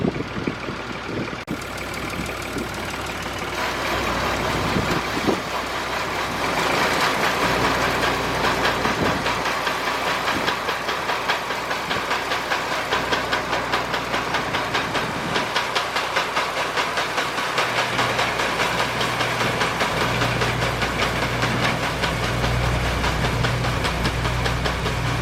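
A farm vehicle engine runs steadily with its PTO shaft turning, a continuous loud rumbling drone with a faint rhythmic mechanical clatter that holds without pause throughout.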